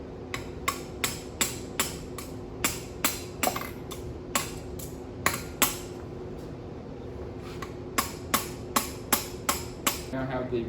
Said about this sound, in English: I'm just going to take the hammer there and then just tap it out